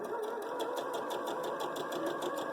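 A sewing machine runs continuously while stitching quilt fabric pieces for a disappearing nine patch block with a quarter inch foot, a close, steady whirring motor with a fast even needle rhythm throughout.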